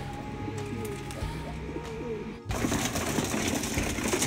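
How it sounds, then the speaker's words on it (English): Pigeons cooing at a loft while the birds are fed, soft low throaty coos repeating at moderate distance, followed by a sudden burst of broadband rustling and shuffling noise. "feeding my other birds right now"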